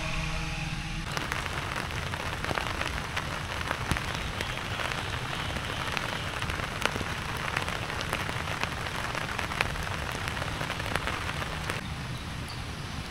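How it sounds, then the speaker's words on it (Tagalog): Rain falls steadily on a rooftop tent at a camping site, a dense, even patter with scattered sharper drops striking the fabric, heard close and alone throughout. "Sakto umulan dito sa camping site."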